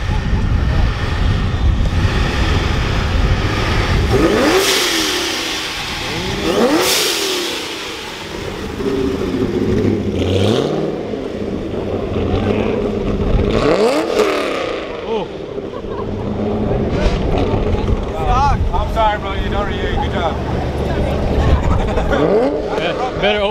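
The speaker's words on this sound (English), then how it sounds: "Better open up those exhaust valves then. Give it a little rev." A widebody Nissan GT-R revs its engine several times in swelling roars, heard outdoors among a crowd with people talking over it and wind buffeting the microphone.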